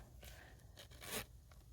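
A small zipper pouch is unzipped in a few quick, soft rasping pulls, quiet and close, with short pauses between strokes.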